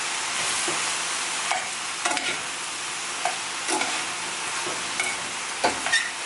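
Penne pasta coated in olive oil is stirred in a hot pan, a loud steady sizzle broken by repeated scraping and clacking strokes of a utensil, up close with no voices.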